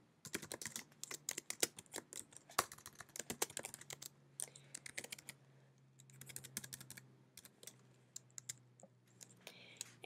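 Typing on a computer keyboard while a user login and password are created, with dense bursts of fast key clicks and short pauses, close and fairly quiet over a low steady hum.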